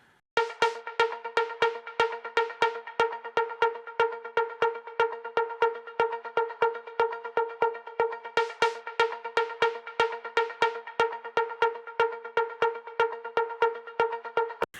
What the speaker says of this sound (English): I'm going to add an autopan tremolo